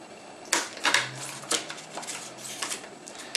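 Scissors or a blade cut into a plastic margarine lid to make an applicator, giving a handful of close, crisp snips and crackles over about three seconds with no talking.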